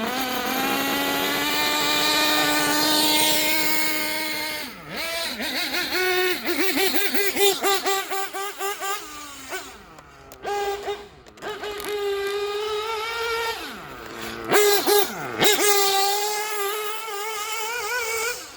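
A Gimar P5 nitro engine in a Hyper 7 RC buggy idles with a high buzzing whine, then revs repeatedly in sharp rising and falling bursts, loud and close, with brief pauses between blips.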